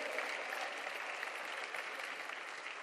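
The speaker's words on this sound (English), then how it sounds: "You want to give God a big clap? Give Him a big one." A church congregation claps together during a sermon, a full, even roar of many hands sustained throughout without speech on top.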